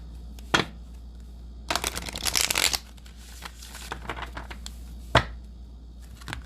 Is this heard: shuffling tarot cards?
yes